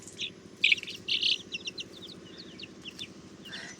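Young chicks around ten to fifteen days old, just growing their wing feathers, peep in quick high repeated chirps close by, with a few louder bursts over a steady low background hum.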